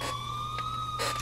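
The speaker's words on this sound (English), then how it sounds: "until I finally heard sirens in the distance" A police siren used as an animated story effect, holding a steady wailing tone throughout at moderate loudness and sounding somewhat distant.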